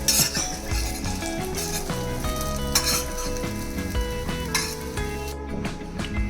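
Kothimbir vadi, coriander fritters, shallow frying in a pan: a steady close sizzle with intermittent clinks of a utensil against the pan, over a tonal background.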